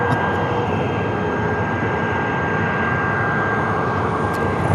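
A fixed-wing airliner takes off at Phoenix Sky Harbor airport, its engines making a continuous broad roar that holds steady and loud, with a faint high tone running through it and no talk.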